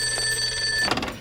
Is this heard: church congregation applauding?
no